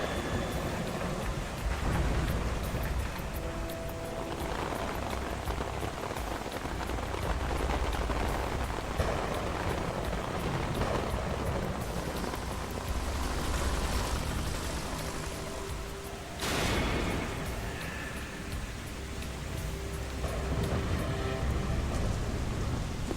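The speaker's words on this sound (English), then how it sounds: "The sound of it hitting, the sound of the rain, like even just hitting his sneaking suit." Steady, dense rain pours continuously in a Metal Gear Solid 2 game scene, a broad hiss of drops drumming on surfaces with one brief dip partway through.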